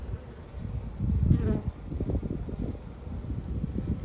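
Honey bees buzzing during a hive inspection, a soft continuous hum close to the microphone with swells and dips, faint and low throughout.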